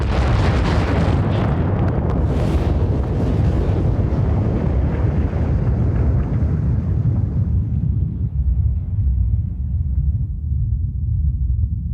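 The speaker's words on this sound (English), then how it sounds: "They call it a supernova, an explosion so bright it outshines entire galaxies." A huge, deep supernova explosion bursts out as a broad roaring blast, then fades slowly into a long, dark rumble with no voices.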